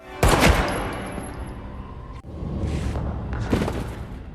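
Gunfire in a film, with a loud sudden burst of shots and booms that fades, then a second rumbling volley a couple of seconds later, with no talking.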